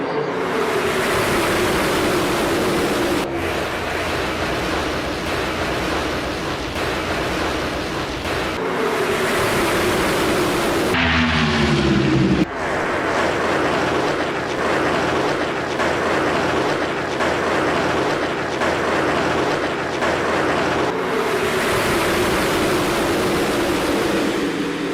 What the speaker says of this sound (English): let's take a look and listen to the sounds here of the next-gen cars